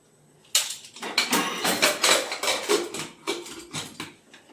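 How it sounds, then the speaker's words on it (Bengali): A metal pressure cooker lid is fitted and closed in a kitchen, producing a quick series of close metallic clanks and scrapes that rise and fall over a few seconds. "প্রেসার কুকারের ঢাকনা বন্ধ করে দিলাম"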